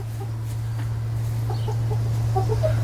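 Scattered soft clucks from chickens, fairly quiet, over a steady low hum in the background.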